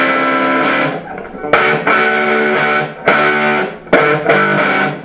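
An electric guitar strums jazz chords through a Dr. Boogie distortion pedal, giving a thick, saturated tone. A few sustained chord hits ring out loud and close, one after another.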